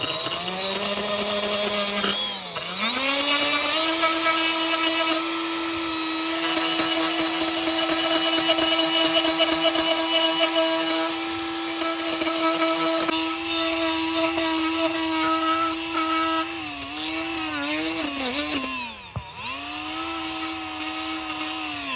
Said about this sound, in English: I'm gonna take this guy and bevel it just ever so slightly so it nestles down in there